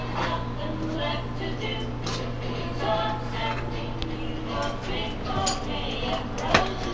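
Dry cake ingredients, including baking soda and baking powder, are whisked in a bowl, giving faint light scraping and clinking under a steady background hum while someone talks.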